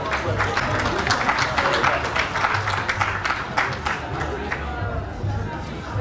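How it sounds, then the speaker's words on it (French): An audience at a gala ball claps steadily throughout, a dense wash of applause mixed with crowd murmur. "Est-ce qu'on peut applaudir très fort notre organisme?"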